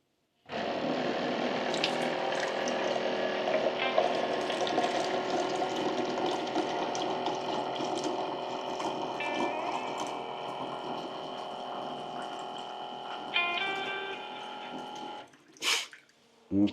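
A water filter pump runs while refilling a tank, a loud, steady mechanical drone with a whine for about fifteen seconds before it cuts off, followed by a couple of brief handling clicks.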